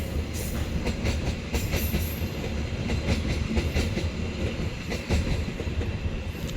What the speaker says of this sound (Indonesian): Kereta api Mataram teman-teman dari stasiun Solo Balapan tujuan ke Pasar Senen.